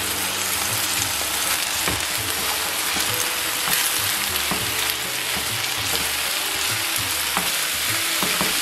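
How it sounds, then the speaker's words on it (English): Onion and sweet pepper stir-fry with chicken in a hot pan, a loud continuous sizzle broken by repeated scraping and clattering of a utensil tossing the vegetables. "And I'm going to stir fry these for about a minute or 2."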